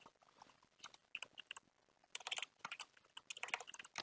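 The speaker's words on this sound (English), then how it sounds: "let's type it in" Keys clatter on a computer keyboard in quick, uneven bursts of typing at a desk, close and fairly quiet, with busier flurries in the second half.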